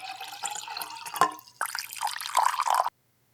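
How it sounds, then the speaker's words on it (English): Water pours into a bowl set on a kitchen scale while sourdough bread dough is mixed, a short liquid splash and trickle that stops abruptly, close and fairly quiet with no talk. "Zero the scale again and add 25 grams of water."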